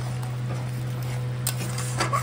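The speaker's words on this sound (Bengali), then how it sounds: "দেখো বন্ধুরা, মশলাটা কত সুন্দর কষাচ্ছি" Masala spice paste for mushroom curry being stirred and fried in a pan, soft scraping and light sizzle over a constant low hum, close by, with a few brief clinks near the end.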